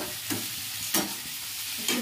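Soybean curry frying in a pan, a steady close sizzle broken by three sharp scraping stir strokes at roughly even intervals.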